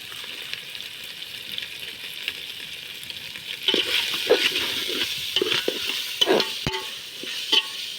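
Chicken and boiled chana dal stirred while frying in a pan, giving a steady sizzle with scraping spoon strokes growing louder and more frequent in the second half; no talking.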